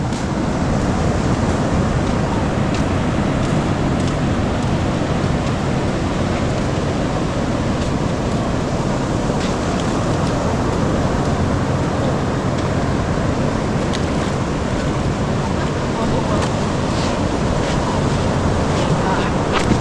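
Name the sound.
sea waves on the beach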